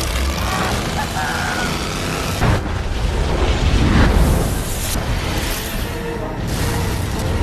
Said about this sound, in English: The massive explosion killed a large group of piranhas.